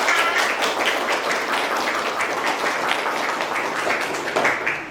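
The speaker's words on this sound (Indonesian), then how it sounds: "Berikan tepuk tangan untuk kelompok" A classroom audience applauds a student presentation group at a university teacher-training session, with steady, dense clapping that holds at an even level for about five seconds and no talking.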